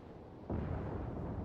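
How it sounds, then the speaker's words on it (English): Ship gunfire in the naval combat game World of Warships: a sudden heavy boom rolls into a sustained low rumble of distant cannon fire, loud and continuous after a quiet start. "That's a little bit of gunfire coming out."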